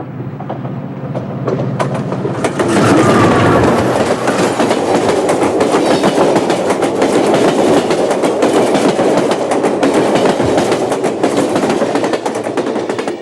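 An Amtrak San Diegan passenger train rolls along the rails with a loud, steady rumble and rapid clickety-clack wheel beats that continue throughout, with no voices.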